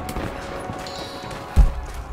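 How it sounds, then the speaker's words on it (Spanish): Gunfire in the video game Rise of the Tomb Raider: a single heavy, distant-sounding shot or impact thuds out near the end over a steady low game ambience. "Oigo más disparos por allí"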